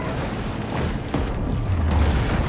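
Dense, rumbling in-game blasts in the shark game Maneater, a near, continuous wash of booming noise with a low thump around the middle, no talk over it.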